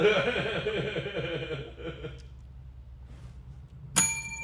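A bell rung near the end of a podcast segment on NFL coaching hires, a single bright ding with ringing overtones that follows a stretch of talk and laughter.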